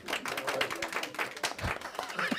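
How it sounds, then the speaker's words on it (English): A small audience's round of applause for Jeff, scattered individual claps rather than a big roar, fairly close and moderately quiet, continuing for a couple of seconds. "Everybody give Jeff a round of applause"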